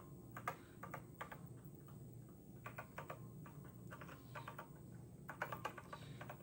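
Typing on a TI-99/4A home computer keyboard, with irregular bursts of key clicks in short runs, moderately close over a low steady background hum.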